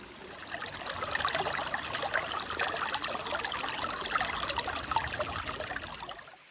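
Water trickles and gurgles continuously at close range as it is collected from a stream into a container, fairly soft and steady throughout.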